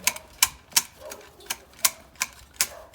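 Hand shears clipping a tall emerald thuja into a spiral shape make a series of sharp, crisp snips, about eight evenly spaced cuts, close and fairly loud.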